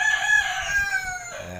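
Roosters crow at a rural spot with many chickens kept nearby, a single drawn-out cock-a-doodle-doo heard at moderate distance, followed by a brief low rumble.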